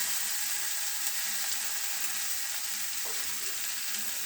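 Poppy seed paste frying in a pan gives a soft, steady sizzle, with a spatula stirring now and then and one faint scrape near the end.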